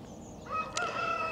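A rooster crows once, a drawn-out call rising out of quiet outdoor ambience, moderately distant.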